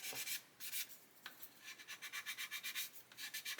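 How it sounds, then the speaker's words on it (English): Sanding a 1/24 scale Airfix F6F-5 Hellcat plastic model kit to remove sink marks, with rapid rhythmic back-and-forth rasping strokes, close and quiet, with brief pauses between runs of strokes and no talking. "so we can sort of sand into that."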